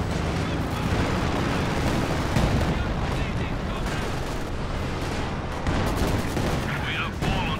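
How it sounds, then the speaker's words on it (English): An artillery barrage in the video game Company of Heroes 2, heard as dense, continuous rumbling blasts and crackling gunfire that fill the whole stretch loudly, with a commentator talking over it. "then there's this barrage as well"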